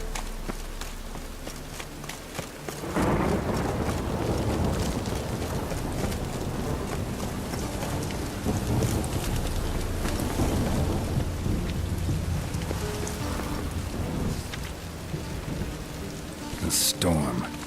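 Thunderstorm with heavy rain in The Witcher 3 game, dense rain hiss bursting in loudly after a quiet start, with rolling thunder rumbling underneath and a sharp crack near the end.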